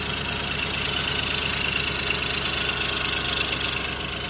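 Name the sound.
car engine idling with possible rod knock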